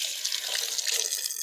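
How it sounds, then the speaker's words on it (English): Hands being washed under a running kitchen sink tap, a steady close hiss of flowing water with small splashy fluctuations throughout. "Let me wash my hands."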